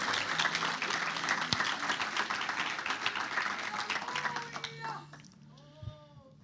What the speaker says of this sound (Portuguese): Você pode aplaudir Jesus nesta noite?